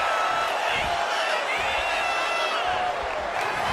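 Arena crowd noise from the WWE 2K25 wrestling video game, a steady loud roar of cheering spectators during a SmackDown match that holds unbroken for several seconds with no clear talk on top.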